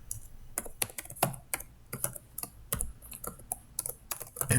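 Keys clatter in irregular bursts on a computer keyboard, close and fairly quiet, as text is entered for a programming demonstration with no one speaking.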